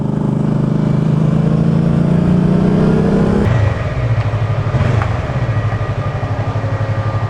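A Doğan SLX car's exhaust drones loudly up close, holding a steady engine tone before the pitch drops into a lower, throbbing idle that pulses on to the end.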